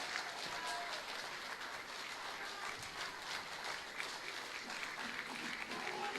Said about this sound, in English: it's traditional after the last song that you stand up and take your applause